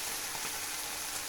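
Chicken livers frying in a pan for a rough chicken liver pâté, giving a steady, dense sizzle and crackle that holds evenly throughout, close and moderately loud with no talking.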